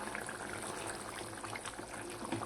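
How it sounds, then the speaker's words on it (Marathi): Chickpea curry with yogurt bubbling at a rolling boil in a pot, a soft continuous bubbling and simmering texture, fairly quiet and heard alone. "बघा किती छान मस्त खळखळून उकळी आलेली आहे"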